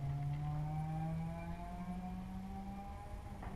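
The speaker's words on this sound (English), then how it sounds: "somebody's got a massive fart can on that car, if you guys could hear that." A car with a large aftermarket exhaust drones with a low exhaust note that slowly falls in pitch as it passes. The sound is faint and distant and fades gradually.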